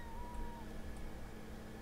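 Pet cat meowing in The Sims 2, a soft game meow over a continuous dense background of game music and ambience; no talking.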